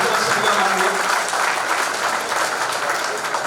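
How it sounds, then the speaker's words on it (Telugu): An audience at a political meeting applauds, with dense, sustained clapping from many hands that stays loud and even throughout. "అందరూ కూడా ఇంకొకసారి చప్పట్లతోటి వారిని సంతోషపెట్టవలసిందిగా"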